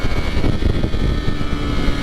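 A Ducati V4 SP motorcycle engine hums steadily and loudly on a test ride, a continuous low rumble with wind noise and no break in level.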